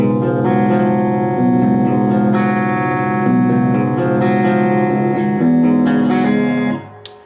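Electric guitar bridge riff played on a clean channel, a steady repeating picked figure of sustained chiming notes with a touch of reverb, loud and close, fading out at the end.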